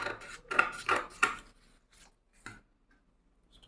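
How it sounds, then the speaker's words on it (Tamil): Scissors cutting along the outline of a paper mask pattern for stitching, a few crisp snips close by in quick succession, then sparse isolated cuts with quiet gaps between. "இப்போ நம்ம பேட்டர்ன் கட் பண்ணிடுவோம்."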